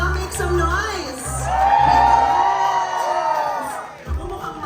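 Audience at a lively Watsons vaccine education event in Manila cheers, whoops and shouts together in a loud, sustained swell, with voices rising and falling across the room.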